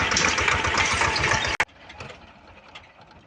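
A tractor engine, in use while sowing oats, runs loud and close with a rough, pulsing chug, then cuts out abruptly after about a second and a half and leaves only faint background noise.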